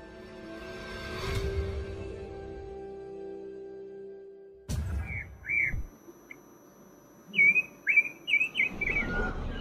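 Caged songbirds at a bird market give sharp chirps and whistled calls in short bursts, clear and fairly close, after a stretch of quieter background noise and a sudden knock.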